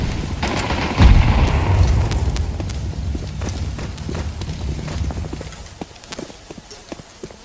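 A grenade blast in a video game booms in loud at about one second, a heavy low rumble that slowly fades, with scattered clicks and thuds afterward.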